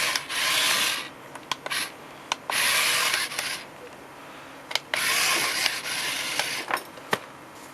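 A remote-controlled toy spider's gear mechanism runs in short, rough whirring bursts, rubbing and grinding as it drives forward and backward, with quiet clicks between the runs.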